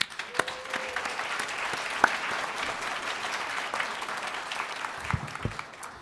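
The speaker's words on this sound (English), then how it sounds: "Let's give them a round of applause." An audience at a Champions of Change event for the AAPI 'What's Your Story' challenge winners claps in a moderate, fairly quiet round of applause, with a few sharper individual claps standing out.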